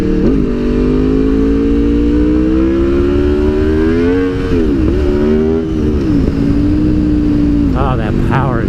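Aprilia RSV4 sport motorcycle fitted with a race ECU, its engine revving loud and close with rising and falling pitch as it accelerates through gears, a continuous roar that dominates throughout.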